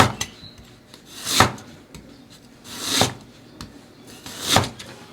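A knife slices ginger on a wooden cutting board, three distinct, fairly loud chopping strokes at roughly even intervals with light scraping between them, close and alone.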